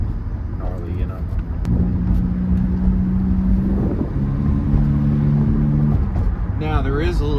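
A Honda K24 four-cylinder drones steadily during a night cruise, with a deep induction and exhaust tone and some rasp underneath a voice talking over it.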